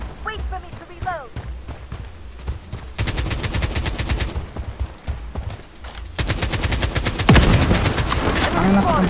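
Rapid automatic gunfire bursts and single shots from the Blood Strike shooter game, loud and close, with pauses between volleys and players talking over the action.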